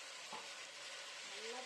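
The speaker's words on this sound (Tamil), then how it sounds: "இந்த மசாலாவோட ஒரு 2 நிமிஷம் சிக்கனை நல்லா வதக்கி எடுத்துக்கலாம்." Chicken sizzles and fries in a pan with masala while being stirred, a steady close hiss with faint scraping, continuous and alone.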